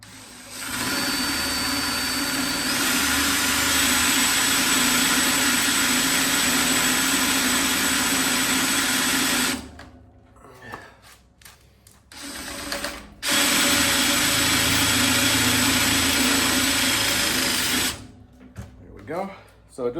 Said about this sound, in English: go ahead and put the self-tapping screw in